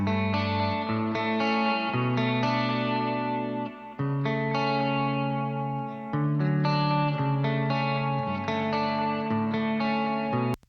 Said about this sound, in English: I've got the reverb track. And that's sort of roomish.